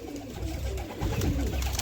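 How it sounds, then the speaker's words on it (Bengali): Domestic pigeons of local Bengali breeds coo softly in a loft, a couple of low throaty rolling calls close by with faint room noise and no talking. "দেখে ভিতরে সব পায়রা রয়েছে বের করে করে তোমাদের দেখাচ্ছি"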